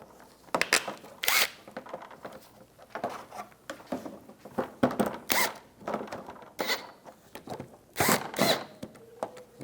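Bolts on a Toyota Prius headlight assembly are tightened with a hand tool in quick, close ratcheting bursts, separated by short pauses and some handling clatter.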